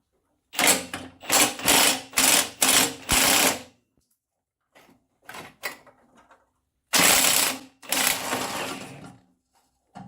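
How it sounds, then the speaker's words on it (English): Ratcheting wrench clicks on a nut during an engine change on a 2008 Dodge Nitro, heard as several quick bursts of rapid mechanical clatter with brief pauses between, close and fairly loud. "my magical dilemma is getting the wrench on the nut"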